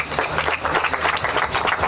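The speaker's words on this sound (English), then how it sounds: "Another round of applause." Dense, steady clapping from a crowd, loud and sustained throughout without a break.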